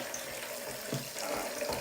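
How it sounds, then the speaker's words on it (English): Water runs from a faucet over a synthetic wig ponytail being rinsed after coloring, a steady broadband splash that holds throughout with slight surges near the end, close and alone with no talk. "I'm going to just rinse this off so I'm not getting any of that in the water"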